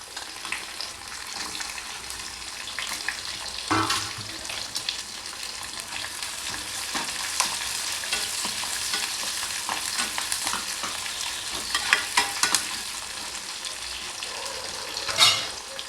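Small onions sizzle and crackle steadily in hot oil with fennel seeds and curry leaves, stirred now and then with occasional sharper scrapes, close and continuous with no voices.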